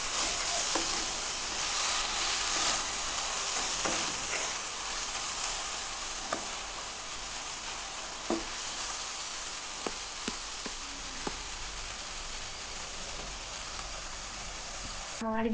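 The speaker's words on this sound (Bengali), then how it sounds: "জলটা প্রায় শুকিয়ে এসছে, একটু ভালো করে নাড়িয়ে নেব।" Raw papaya halwa stirred in a pan as its water cooks off, giving a steady soft sizzle and scraping with occasional light clinks of the spoon against the pan.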